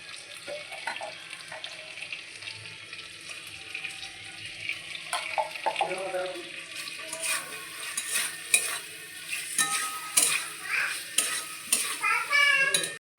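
Spiced potol curry with Kashmiri chili powder is stirred in a pan, with a spoon scraping and clinking against metal over a soft sizzle, the scraping growing busier and louder toward the end.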